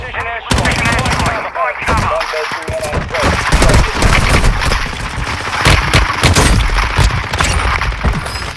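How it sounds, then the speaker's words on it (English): Enemy precision airstrike in the game Warzone Mobile: a loud, dense barrage of heavy booms and rapid gunfire that runs continuously, with voices faintly mixed in. "Enemy precision airstrike."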